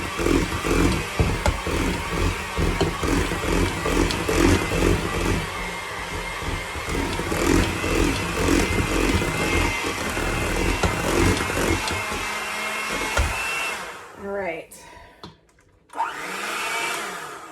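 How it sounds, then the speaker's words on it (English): An electric hand mixer runs at low speed, beating peanut butter mousse pie filling in a home kitchen, a steady loud motor whir with rattling that holds for about fourteen seconds, then cuts out into brief handling clatter before restarting. "I'm going to use the hand mixer to kind of get it started."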